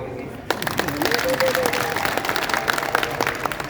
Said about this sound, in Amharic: ማርያምን አጨብጭቡ።